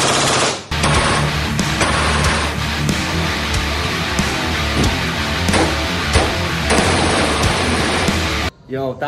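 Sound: gunfire at a shooting range, M4 rifle

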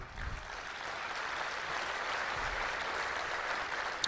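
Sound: audience applause

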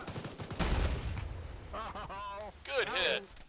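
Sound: gunfire in a video game, ShackTac Arma session

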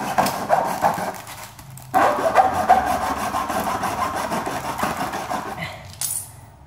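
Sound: sawing a plastic phone charger

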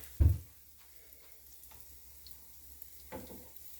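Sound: pancakes frying in oil

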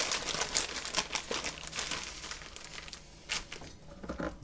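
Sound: crinkling plastic Ziploc bag holding the lead remover cloth

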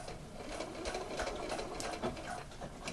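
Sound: sewing machine back stitching elastic waistband

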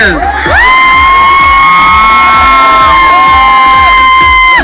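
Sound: audience applause and cheering for Tanya

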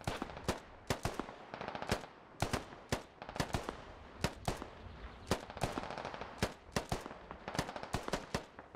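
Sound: gunfire in the video game Squad

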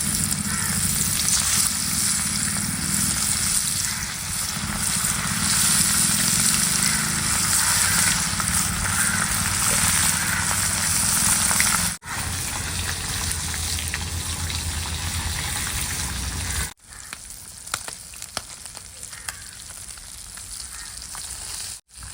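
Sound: food frying in hot oil

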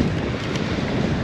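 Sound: wind at the coast while fly fishing

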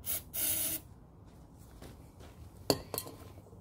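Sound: spraying starting fluid into an old wood splitter engine

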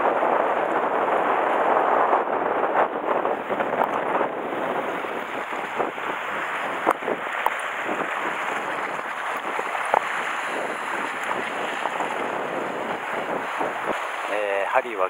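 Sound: strong gusting wind buffeting the microphone

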